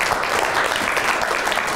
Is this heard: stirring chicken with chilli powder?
no